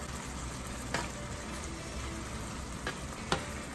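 Shrimp sizzling in a pan over high heat, a dense, even hiss of frying with occasional sharp crackles and pops, close and steady, with no talking.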